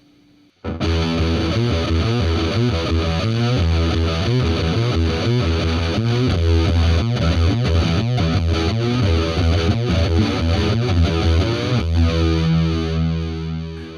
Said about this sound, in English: whether distortion into chorus or chorus into distortion